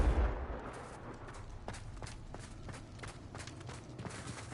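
A Confringo fire spell cast in Hogwarts Legacy, opening with a low booming burst that fades into a string of sharp, crackling impacts and rumbles over faint background noise.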